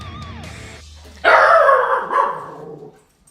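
A dog barks close by in a loud burst of a few rapid barks lasting about a second and a half, then fades out, with no talking over it.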